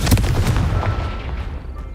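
A Confringo blast spell in Hogwarts Legacy goes off with a loud booming burst up front, followed by a rumbling decay that fades over about two seconds.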